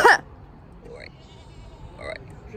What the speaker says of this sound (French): Et juste à côté du restaurant, il y a des chèvres.